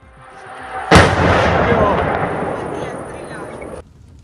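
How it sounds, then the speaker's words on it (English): A loitering munition strikes a military target in the war in Ukraine: one sudden, loud blast hits, then a long rumbling roar slowly fades before cutting off. "The target was destroyed by a direct hit from a munition that was flying around."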